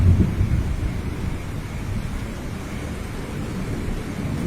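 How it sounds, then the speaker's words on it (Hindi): Heavy rain hisses steadily under dark clouds with a low thunder rumble, a broad constant wash of noise that is strongest at the start. "आसमान में घने काले बादल छा जाते हैं और थोड़ी ही देर में जोरदार बारिश शुरू हो जाती है"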